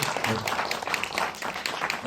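Festival audience applause for a film director at a short film screening talk, a continuous patter of clapping with a voice speaking over it throughout.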